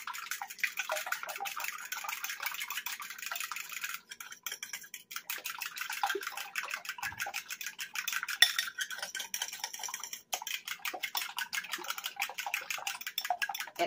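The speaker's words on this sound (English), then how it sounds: "Nice splash of milk. And we're going to mix this together." Eggs with a splash of milk are whisked in a bowl, a close, continuous rapid clatter and swish of utensil against the bowl with brief pauses, without talk.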